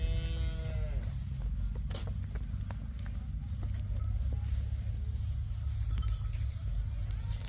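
A cow lets out a drawn-out moo at a farm where cows are for sale, followed by a steady low rumble of wind and farm noise with faint clinks.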